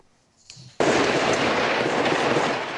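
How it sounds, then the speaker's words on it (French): Dense, sustained burst of gunfire during a police RAID assault on a Toulouse apartment building, heard from a neighbouring building: faint pops first, then a sudden loud, continuous crackling roar of shots that holds steady to the end. "Le bruit des balles est très présent."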